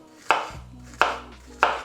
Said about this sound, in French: On va découper la banane.